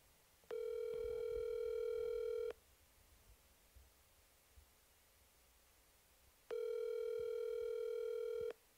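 Outgoing phone call ringback tone: two long, steady electronic rings about two seconds each, separated by a few seconds of quiet line hiss.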